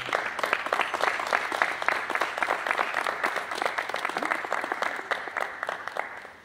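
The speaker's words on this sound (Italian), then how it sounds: "un applauso" An audience at an association donation ceremony claps steadily for several seconds, a dense, even applause close by that tails off at the end.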